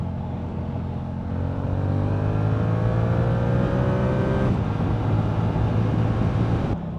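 A Yamaha R7 motorcycle engine pulls hard through the gears with a loud, close, rising drone. It cuts briefly at a gear change, then climbs again with no voices over it.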